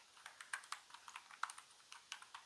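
Soft, quiet typing on a computer keyboard, a steady run of light clicking keystrokes with uneven spacing, close and faint, no talking.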